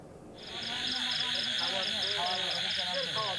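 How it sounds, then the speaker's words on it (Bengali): Crickets chirp at night in a border area, a continuous high pulsing trill under a dense wash of other night sounds. Part of it is masked by speech. "সীমান্ত জুড়ে ভেসে আসছে শুধু ঝিঝি পোকার ডাকার"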